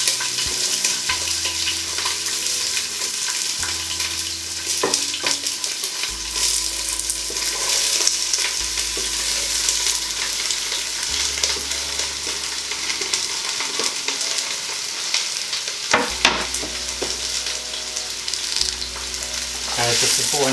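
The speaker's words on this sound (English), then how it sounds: "straight away you'll hear it sizzling." Red cabbage and mixed vegetables sizzle in a hot stir-fry pan, a loud, dense, close crackle that persists throughout, broken by scraping and stirring knocks from a wooden spoon, with no talking.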